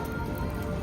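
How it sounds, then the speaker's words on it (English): Rain falling on the Atlantic City boardwalk, a dense, even patter of drops on a hard surface that stays steady for under a second, with no voices. "Still raining."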